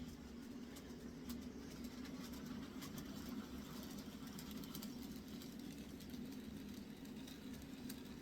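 Two toy trains run on a model train set layout, giving a faint, steady motor hum with light rail clicks and rattles throughout, quiet and unbroken.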